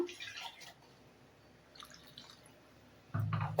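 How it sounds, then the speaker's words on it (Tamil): Water splashes and pours into a pot of Chettinad chicken curry in short bursts, close by, with quieter drips and gurgles in between. "இப்போ இது கூட தண்ணி சேர்த்துக்கலாம்."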